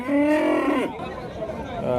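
A large crossbred cow lows loudly at close range amid the murmur of a busy crowd at a cattle market, followed by more distant chatter and animal sounds.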